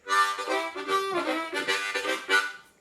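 Bright, reedy chords on a Hohner Marine Band Deluxe harmonica with a bending, wailing tone, played alone in a few short phrases with brief dips between them.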